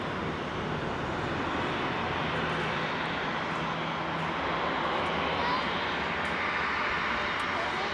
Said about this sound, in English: Right, Jet2's just lining up.